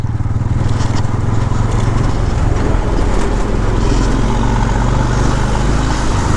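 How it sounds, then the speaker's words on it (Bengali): A motorcycle rides along a badly broken, bumpy road in Bangladesh, its engine droning loudly and steadily, with wind and jolting rattle throughout and no speech. "আমি মোটর সাইকেলে যাচ্ছি"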